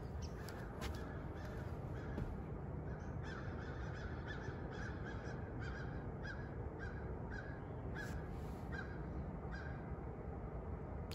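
Repeated harsh calls from a large bird, several loud cries in an irregular series over a steady outdoor rumble, with no talking.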